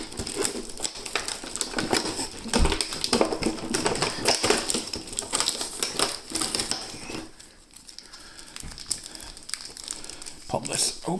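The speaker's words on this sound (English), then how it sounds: "Let's peel back the fake cards to get to the real cards." Crinkling and tapping as plastic packaging on a Bakugan battle pack is peeled open, with fake cards pulled back to reach the real ones; close, irregular rustling and snapping continue throughout.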